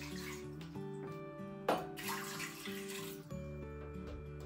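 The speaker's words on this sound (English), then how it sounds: "So for the next part, we want to add 350 millilitres of water," Water is poured into a pressure cooker, a faint steady splashing and gurgling that runs throughout, with a quiet tonal hum underneath.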